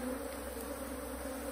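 Honey bees hum in a steady, close buzz around a full honeycomb super from a hive, a continuous droning swarm sound with no talking.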